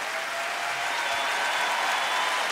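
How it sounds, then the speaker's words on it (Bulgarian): Dense, steady applause from a large concert audience at a live show by a Bulgarian singer, a continuous wash of many hands clapping together with no voices standing out. "Искам да чуя вашите още бурни аплодисменти."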